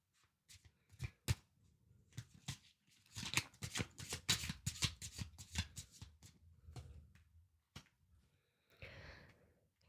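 Tarot cards being shuffled and drawn by hand, a close, soft riffling flutter in quick bursts with a few separate card snaps and slides.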